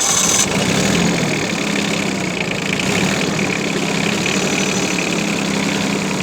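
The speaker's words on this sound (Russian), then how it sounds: "заведем трактор, послушаем, как работает" A small diesel engine of a Yanmar AF15 compact tractor idles steadily and close in neutral, a constant low rumble with a faint rattle and no change in speed.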